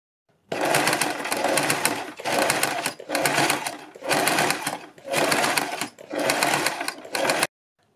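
An electric sewing machine stitches along the edges of fabric strips for a neck design, running in six loud, close bursts of steady whirring separated by brief pauses.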